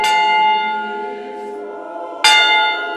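A large bell rings loud and near, its first stroke humming out as it slowly fades, then a second sharp strike lands and sets the long ringing tone going again.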